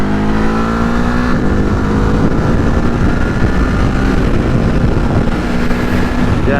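A 2021 Ducati Hypermotard 950 RVE motorcycle accelerates hard through the gears on a freeway, its loud engine rising steadily in pitch under heavy, constant wind roar.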